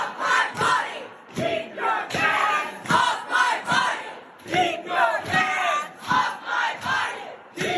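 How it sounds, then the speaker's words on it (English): A large crowd gathered outdoors chants in loud, rhythmic surges. The shouted bursts rise and fall at regular intervals with short gaps between them, sounding like a rally chant from many voices. "the crowd got bigger and bigger throughout the day"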